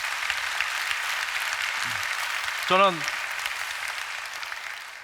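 Church congregation applauding at a Friday prayer service, a steady broad wash of clapping throughout with a brief spoken word from a man partway through.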